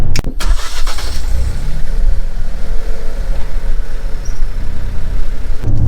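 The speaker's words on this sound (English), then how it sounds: "And the cold start on the Renegade" A Jeep Renegade cold-starting: the starter cranks briefly, then the engine catches with a loud roar and settles into a steady, rumbling fast idle, recorded close.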